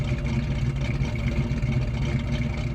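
The V8 engine of a 1967 Chevrolet Chevelle Malibu wagon idles with a steady low rumble close by, its even throb continuing throughout with no voices.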